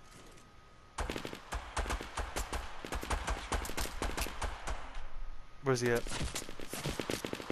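Fortnite video game gunfire in rapid, sharp repeated shots that start abruptly and keep going under a player's voice, with a brief burst of talk near the end.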